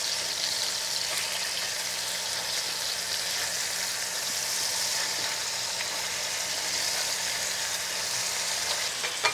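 Pan kabob sizzles in a hot pan, a dense continuous crackling hiss at even loudness throughout, close by, with no voices.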